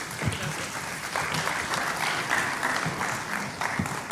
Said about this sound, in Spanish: La vamos a recibir con un fuerte aplauso.